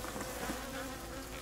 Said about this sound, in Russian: Пчела волнуется.